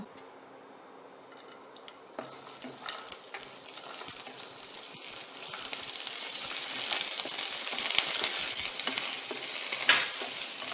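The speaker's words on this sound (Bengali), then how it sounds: "এবার নারকেল কুচানোটা ভেজে নেব" Chopped coconut fries in a pan with a continuous sizzle that grows louder over time, punctuated by frequent scraping and tapping of a spatula stirring close by.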